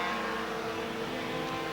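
A 3-rotor rotary race car at Kyalami during a 1992 Wesbank Modifieds race, a steady buzzing engine note held at high revs, fairly faint and unbroken for under two seconds.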